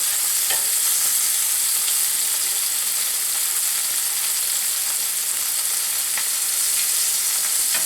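Pork chops for smothered pork chops brown in a hot frying pan, giving a loud, continuous hissing sizzle with no talking over it.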